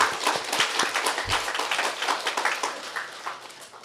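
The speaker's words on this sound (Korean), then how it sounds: "감사의 박수" Church congregation applauding in thanks during a Sunday service, a dense, steady crackle of many hands clapping at moderate distance, continuing evenly throughout.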